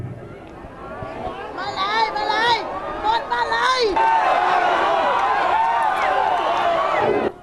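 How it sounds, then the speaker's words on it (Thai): Rice farmers at a protest over the rice pledging scheme booing and shouting together, a loud surging mass of overlapping yells and jeers that grows more intense midway and cuts off abruptly. "ทั้งเสียงโห่และปฏิกิริยาจากชาวนาที่ตะโกนว่าไม่เอา"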